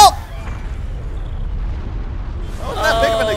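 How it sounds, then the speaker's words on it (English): A video-game explosion in Resident Evil 6 opens with a sharp blast, then a low rumbling tail lingers before voices start speaking over it. "That wasn't that big of an explosion"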